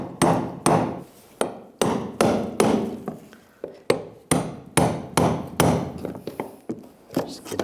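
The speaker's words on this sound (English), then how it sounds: "You want to use a brass punch to loosen this up." Sharp metallic taps of a brass punch struck against a fuel tank lock ring on a 1999-2006 Chevrolet Silverado, about fifteen evenly paced blows close by, each ringing briefly before the next.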